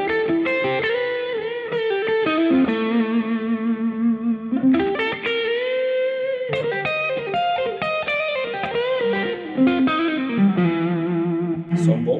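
PRS Custom 24 electric guitar played through its brass pickup with effects, ringing melodic lines and chords loud and close for about twelve seconds, with a short pause partway through and no talking.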